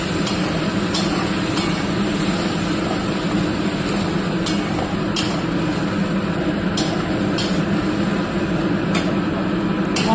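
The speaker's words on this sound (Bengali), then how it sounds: "মশলাটাকে ভালো করে কষাই" A paste of ground whole garam masala sizzles steadily in a hot pan as it is sautéed, a continuous hiss with regular scraping clicks from a stirring spoon.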